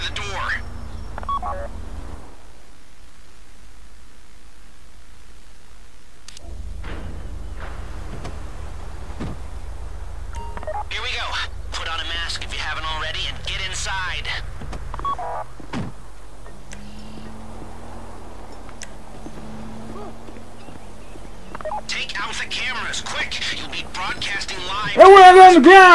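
Phone keypad tones from a handset in GTA 5 triggering a vault door, heard as short tonal beeps amid game ambience with a low engine-like hum, followed by a loud burst near the end.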